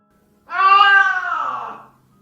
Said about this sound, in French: L'appartement était silencieux, à l'exception du miaulement du chat affamé.